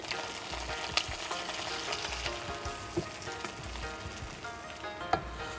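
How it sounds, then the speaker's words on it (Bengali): Chopped green chillies and coriander, along with nuts, hitting hot oil in a pan and sizzling with a steady, crackling hiss, broken by a few sharp spatters and occasional light stirring; nobody speaks. "তেলটা গরম হয়ে গেছে। কাঁচা মরিচ কুচি, ধনে কুচি দিচ্ছি।"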